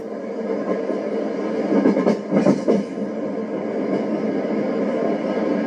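Union Pacific 3985 steam locomotive climbing grade through pine country, a steady heavy rumble with a short burst of louder chuffing in the middle, carrying on evenly afterward.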